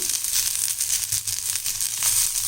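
Fresh mint leaves sautéing in a pan with softened onions for pudina chutney give a steady, close crackling sizzle with rustling, crushing texture as they are stirred, with no talk.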